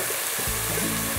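Meat browning in a pot for Palestinian-style rice with peas and carrots, sizzling and crackling steadily up close with a low rumble underneath, no voices.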